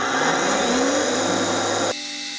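A Grosser GAG 20 120N cordless angle grinder runs at its first speed, a loud steady motor whine with a rising tone, then drops abruptly to a lower, steadier hum near the end.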